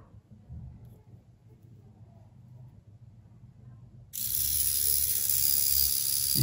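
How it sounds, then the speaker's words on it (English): A DC motor drives a small blender from a DIY supercapacitor, starting abruptly partway through as a loud, steady high-pitched whine with a broad buzz, after a stretch of quiet low background. "Now, run DC motor again."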